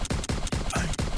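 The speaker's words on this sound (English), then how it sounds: "So gunshots and all that shit" Gunshot sound effect in a rapid burst of about six sharp, evenly spaced reports, loud and close, with no talk.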